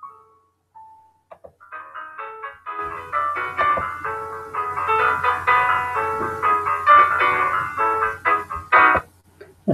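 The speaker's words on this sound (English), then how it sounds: "That's a little piano cover." Piano cover of the Are You Afraid of the Dark theme, a sparse melody of single notes that builds into fuller chords, clear and fairly loud, with no talk over it.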